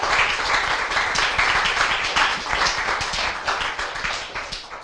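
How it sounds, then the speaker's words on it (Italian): Group of girls clapping together as applause, a dense, steady patter of many hands held at a fairly loud level for several seconds before easing slightly near the end. "Vediamo che intensità di applauso sanno sfornare per darti una medaglia al valore."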